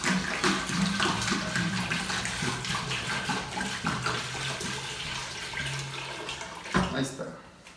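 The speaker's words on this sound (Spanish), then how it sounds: "ahí le voy a echar agua hasta que se tape" Tap water splashes and runs into a cooking pot over beef cheek meat, a steady close gush with a voice speaking over it.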